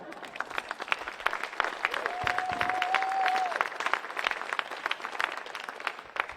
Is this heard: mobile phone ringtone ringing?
no